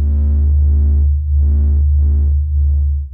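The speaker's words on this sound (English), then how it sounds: "This is the sound of the sun singing." A deep, continuous electronic hum throbs underneath while higher tonal swells pulse on and off in uneven bursts: the sun's oscillations, sped up into audible frequencies.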